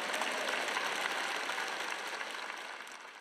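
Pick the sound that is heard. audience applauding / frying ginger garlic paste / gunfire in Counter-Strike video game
audience applauding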